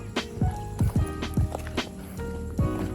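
Horse hooves clip-clopping on a hard surface at a walking pace at Kawayan Eco Park, a string of sharp knocks close by over a low background rumble.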